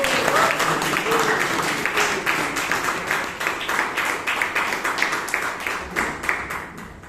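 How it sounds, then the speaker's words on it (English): Applause from the audience at a Bangalore Toastmasters meeting welcoming Toastmaster Alok on stage, steady dense clapping with some voices mixed in, tapering slightly toward the end. "Give a big round of applause to Toastmaster Alok"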